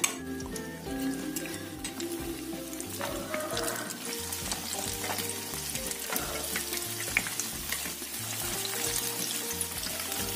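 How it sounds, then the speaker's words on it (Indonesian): Potatoes frying in hot oil in a pan, giving a continuous close, bubbling sizzle with small crackles throughout and a low kitchen hum underneath, with no talking. "Setelah minyaknya panas, ini kita goreng sekitar 7 menit atau sampai matang."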